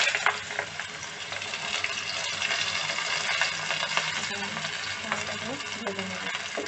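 Washed rice with ginger garlic paste fries in a pot for beef biryani, making a dense, continuous sizzle with scraping stir strokes throughout, close and moderately loud.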